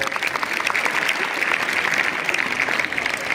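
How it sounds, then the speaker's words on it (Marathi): Steady, loud applause from a school audience at a tenth-standard farewell ceremony fills the space, a dense wash of many hands clapping continuously without a break. "परत एकदा जोरदार टाळ्या होऊ द्यात"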